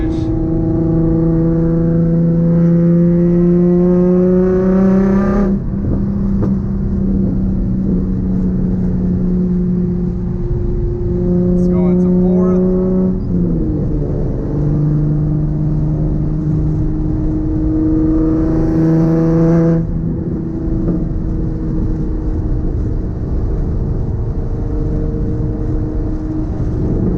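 Nissan 350Z fitted with a full Tomei exhaust, driven in third gear while revving and downshifting; loud, raspy engine note rising and falling in pitch with several throttle blips and gear changes, close and continuous, no talk.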